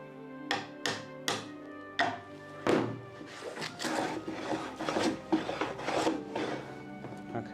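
A hand tool shaves curls off a piece of wood with a run of close scraping strokes and soft knocks, a few distinct hits at first and then quicker, busier rasping.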